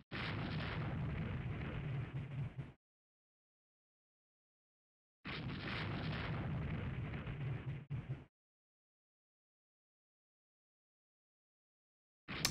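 Naval bombardment shellfire in the warship strategy game Rule the Waves 3: two sustained roaring barrages of a few seconds each, separated by silence, with a third starting at the end, loud and dense.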